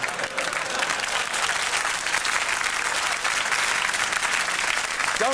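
A studio audience at a Christmas special comedy show claps in sustained, dense applause, loud and even throughout with no break.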